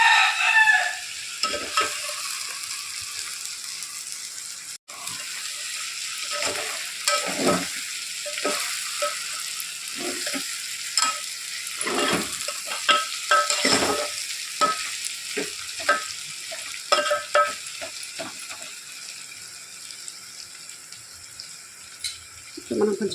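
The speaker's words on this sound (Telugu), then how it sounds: "ఇప్పుడు దీన్ని మంచిగా కలుపుకోవాలి." Mutton curry in green chilli paste with dried chilli powder and a little mint is stirred in a pan, a spoon scraping and sizzling in steady, repeated strokes close by, with crackling frying throughout and no talk.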